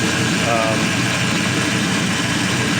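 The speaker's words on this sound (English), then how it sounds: "you can actually hear the injectors opening and closing" A 5.3L LS truck engine with new lifters running on a test stand, a loud steady close idle with fast faint ticking from the injectors beneath the drone.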